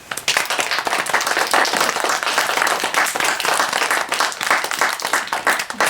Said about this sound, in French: Est-ce qu'on applaudit le spectacle ?